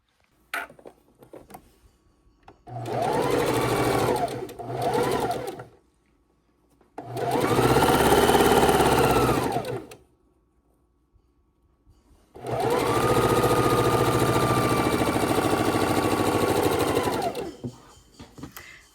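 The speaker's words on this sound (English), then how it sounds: "We are using the Singer heavy duty machine, and it is a little bit louder" A Singer heavy duty sewing machine stitches quilt pieces together in three steady whirring runs of several seconds each, fairly loud and close, separated by short pauses with light handling noise.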